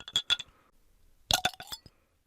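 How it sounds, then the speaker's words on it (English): A bottle of Angry Orchard hard cider is opened with a novelty bottle opener, giving a few short metallic clinks and taps, then a brief clattering burst of clicks. "I crack open this bottle of Angry Orchard with my Infinity Gauntlet bottle opener."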